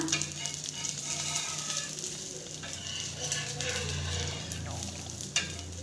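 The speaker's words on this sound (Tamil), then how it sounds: "நான் இன்னைக்கு எண்ணெய் தான் சேர்த்து சுடுறேன்" Set dosa cooking in oil on a hot pan, a continuous close sizzle and crackle of frying with a low steady hum beneath, no talking.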